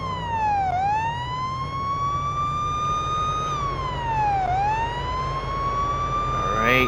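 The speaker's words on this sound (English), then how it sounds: "Put the sirens on if you need to get through traffic faster." A police car siren in a video game wails continuously, rising and falling in long sweeps over a steady engine rumble, loud and close throughout.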